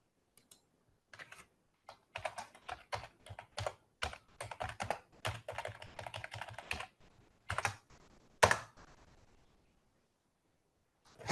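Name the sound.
typing on a computer keyboard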